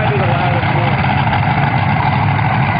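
A pulling tractor's engine idles at a truck and tractor pull, a dense, loud, steady rumble with no break, while an announcer's voice sits over it.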